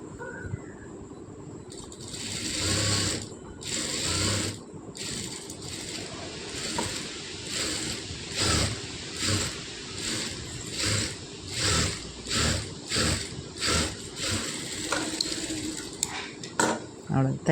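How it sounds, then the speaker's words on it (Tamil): A sewing machine stitches a neck design on fabric, a close, rhythmic run of motor whir and needle clatter in repeated bursts under a voice speaking throughout. "பின் பண்ணிவிட்டு இது ஃபுல்லாக வந்து அப்படியே ஒரு தையல் போட்டுக்கணும்."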